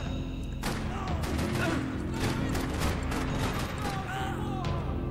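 Gunfire from the video game Max Payne 3, a dense run of sharp shots and thuds that keeps going across the whole stretch, loud over a busy background of game effects.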